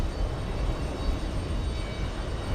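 A Delta airliner taking off from runway 13 right at JFK airport, heard as a steady, broad engine roar at moderate distance with no voices over it.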